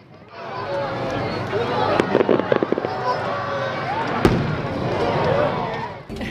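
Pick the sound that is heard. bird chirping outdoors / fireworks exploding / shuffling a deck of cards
fireworks exploding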